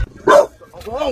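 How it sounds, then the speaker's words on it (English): A dog barking from inside a car, one loud sharp bark followed by a whining, yelping call, close to the listener. "that's a dog? Wow."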